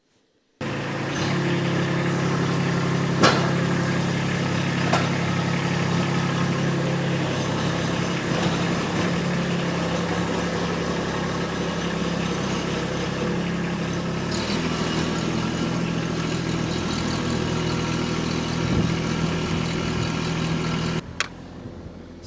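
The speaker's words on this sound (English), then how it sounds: "We'll fire up the tractor." A Kubota B2601 compact tractor's small diesel engine idles steadily and close by for a long stretch, a low even rumble with occasional clicks and no talking, in snow.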